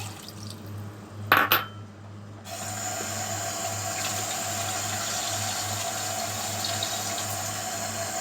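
Two bowls of water poured into a simmering pork belly broth with chicken stock, a brief splash followed by a steady rushing pour and bubbling hiss, close and alone.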